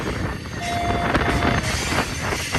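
A BNSF manifest freight train rumbles past close by on main track 2 at Sullivan's Curve, Cajon Pass, with a steady broadband roar, faint metallic squeals and clanks riding over the continuous rolling noise.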